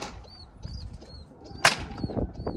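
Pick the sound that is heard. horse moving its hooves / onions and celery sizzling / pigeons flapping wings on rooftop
pigeons flapping wings on rooftop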